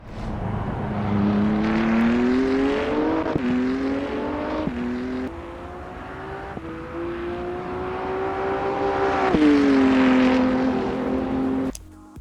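A BMW M4 GT3 EVO race car engine roars past loudly in a video game, its pitch climbing through several gear changes with brief drops between shifts, a steady, sustained high-revving drone.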